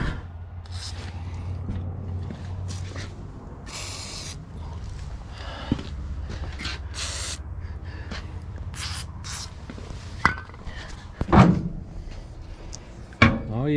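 Hinges on a wood boiler door get a spray of lubricant, heard as several short hissing bursts over a steady low hum, with a few metallic clicks and clanks of the door near the end.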